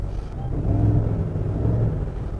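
A Cadillac Escalade Platinum SUV engine hums low and steady, swelling slightly as the throttle is lightly pressed, with a deep rumbling tone and no voices.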